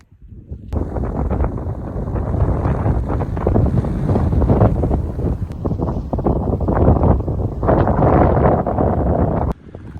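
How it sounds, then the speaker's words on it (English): Strong wind beside a lake buffets the microphone with a loud, continuous rushing roar that cuts off abruptly near the end. "Holy cow, is it windy on the other side of the lake."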